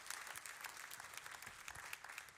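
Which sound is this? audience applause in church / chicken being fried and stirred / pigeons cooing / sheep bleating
audience applause in church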